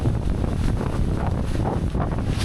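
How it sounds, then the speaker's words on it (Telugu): Strong wind buffets the microphone during a motorbike ride in rainy Wayanad, a continuous loud rushing and rumbling with no voices. "గాలి మాత్రం బీభత్సంగా ఉంది."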